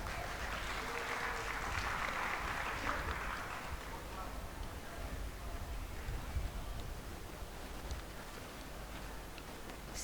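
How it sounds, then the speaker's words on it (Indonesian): Applause from the audience at a graduation and inauguration ceremony at SMTI Banda Aceh, dense clapping strongest in the first few seconds, then thinning to scattered claps under murmuring voices. "Tepuk tangan."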